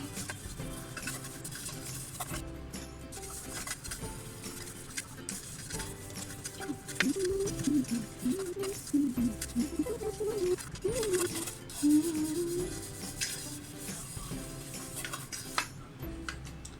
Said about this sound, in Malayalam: ഈ പ്ലേറ്റ് ഞാൻ നന്നായിട്ട് ബ്രഷ് ഇട്ട് ഉരച്ചു കൊടുത്തിട്ടുണ്ട്